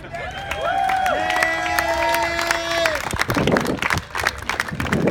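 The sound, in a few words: crowd clapping at a memorial tribute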